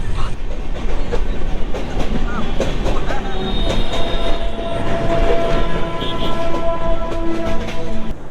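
A passenger train, the 13151 to Jammu Tawi departing near Dakshineswar, Kolkata, rolls steadily along the tracks with rumbling wheels, clacking joints and a thin metallic squeal, loud and close throughout.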